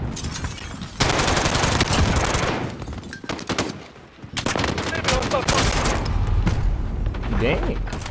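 Automatic gunfire in Call of Duty Warzone rattles in loud, close bursts with pauses between them, while voices speak during the shooting.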